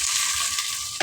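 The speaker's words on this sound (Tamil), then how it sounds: "எண்ணெய் ஊற்றி பட்டை லவங்கம் போட்டிருக்கேன்" Cinnamon and cloves sizzle in hot oil for a Tamil salted meat thokku, giving a steady close frying hiss throughout with no talking.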